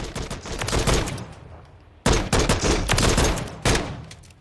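Full-auto gunfire rips through Call of Duty: Modern Warfare III in Warzone, with close, loud sustained bursts separated by brief pauses, alone without talk.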